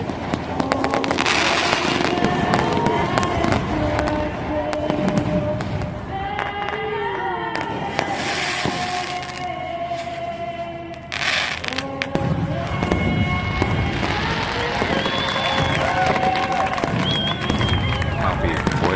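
Fourth of July fireworks in Petersburg, Alaska crackle and pop in dense bursts throughout, loud and close, with a crowd cheering and voices talking over the display.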